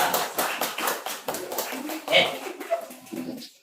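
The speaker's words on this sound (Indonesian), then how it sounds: "Tepuk tangan dulu untuk kelompok 2." Classroom students clap for a presenting group, an uneven burst of hand claps with some louder individual strikes, gradually thinning out while voices chatter over it.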